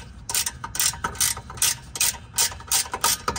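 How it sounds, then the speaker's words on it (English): A ratchet wrench turns a bolt on the rear shock of a 2011 Chrysler Town & Country in a driveway, clicking in loud, close, rapid bursts with short pauses between strokes. "We just broke it with the breaker bar, and now we're gonna put on a ratchet."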